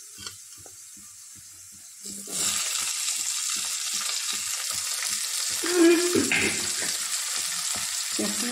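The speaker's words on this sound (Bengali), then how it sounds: "ক্যাপসিকামটা খুব বেশি ভাজবো না, বেশি ভাজলে ভালো লাগে না, একটু ক্রাঞ্চি থাকতে হবে।" Capsicum and other vegetables, with carrot already cooked, stir-frying in a hot pan for masala noodles: a quiet start, then a steady loud sizzle with rhythmic scraping and tossing strokes throughout.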